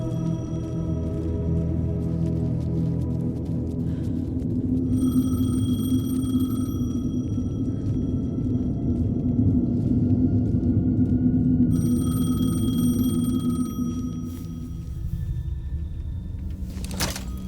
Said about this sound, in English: Payphone was ringing.